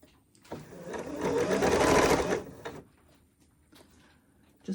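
A sewing machine stitching fabric for a faux shirt, one close steady burst of rapid whirring lasting about two seconds, framed by quiet handling clicks before and after.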